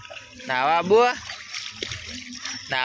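Footsteps slosh through knee-deep monsoon floodwater on a street, with a few soft splashes under loud, close voices talking over them.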